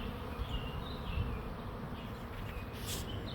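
A large honeybee swarm buzzing in a backyard as it moves into a swarm trap box, a dense continuous drone of many wings with occasional nearer bees passing, steady and outdoors.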